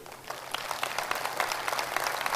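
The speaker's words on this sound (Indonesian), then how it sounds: "Tepuk tangan untuk para leader Riwe" An audience at a Riway leadership training session claps for the Riway leaders. The applause is short and moderately loud, with many overlapping claps and no voices heard over it.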